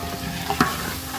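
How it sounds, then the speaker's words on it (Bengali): Rice lightly frying in a pan for biryani, a soft continuous sizzle with a brief scrape of stirring partway through, heard up close and alone. "চালটা এখন হালকা ভাজা হবে।"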